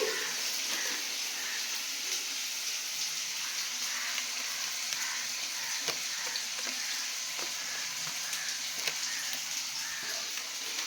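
Pointed gourd, brinjal and kalkol frying in hot oil in a home kitchen, a steady close sizzle that runs unbroken throughout with small crackles and pops, no talking.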